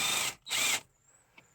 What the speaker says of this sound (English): I decided to take my drill to it.